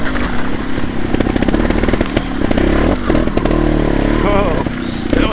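Loud two-stroke-style trials motorcycle engine held at steady high revs through a hare scramble race course in fourth gear, with the buzzing drone continuous and close throughout, rising and dipping slightly with throttle.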